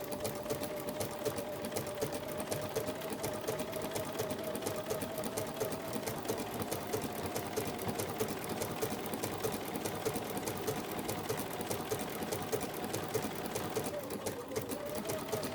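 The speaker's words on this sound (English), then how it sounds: "raise and lower the presser foot and adjust my fabric as needed to keep my stitches going right along the side of that shape" A sewing machine stitches steadily around an appliqué petal shape on quilt-block fabric, its fast even motor rattle running close and constant the whole time without pause.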